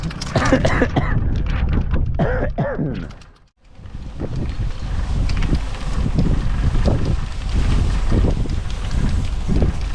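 Strong wind roars and buffets the microphone continuously while boat-renovation work happens outdoors, with voices shouting through it and a brief lull midway before the gusting resumes.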